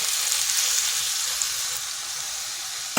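Fig and potato curry sizzles loudly in a pan as water is poured in, a steady bright hiss filling all three seconds with no talk.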